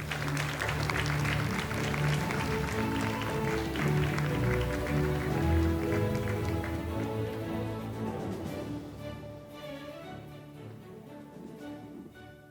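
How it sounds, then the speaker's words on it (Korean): At the closing ceremony of an international conference, the audience claps steadily over a low musical bed. The applause fills the hall for several seconds before thinning and fading out toward the end, with no voices over it. "여러분 큰 박수 부탁드립니다"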